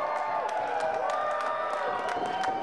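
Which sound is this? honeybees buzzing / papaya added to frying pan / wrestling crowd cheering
wrestling crowd cheering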